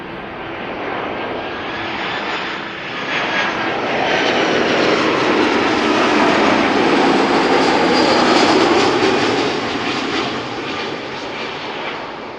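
A Vueling Airbus A320 from Valencia landing at Amsterdam Schiphol, a steady loud jet roar that swells in the middle as it passes close, then eases off toward the end.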